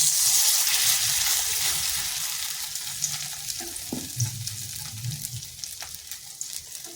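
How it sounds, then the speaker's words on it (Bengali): A chira (flattened rice) and curd snack shallow-fries in a little oil over low heat. The sizzle is loudest at first and gradually softens, with a few clicks and stirring scrapes near the end. "আর এগুলো কিন্তু আমি ডুবো তেলে ভাজবো নি, হালকা তেলে ভেজে নেব।"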